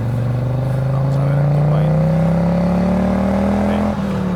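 Audi Quattro turbo engine revving steadily as a loud, continuous drone that climbs in pitch over several seconds, then dips briefly near the end.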